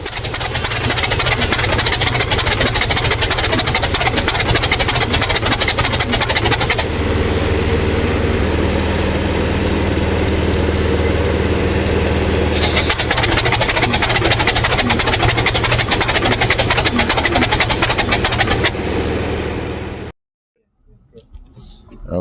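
New engine in a T-62 tank on its first test start, a loud, rough, low diesel rumble running steadily with a quieter idling stretch in the middle, then cutting off abruptly near the end.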